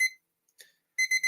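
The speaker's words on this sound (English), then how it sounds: "I'm actually going to set up the timer again and" Electronic timer set for fifteen minutes during a writing stream, a single clear beep, a faint chirp, then a rapid burst of three sharp alarm beeps, close and alone.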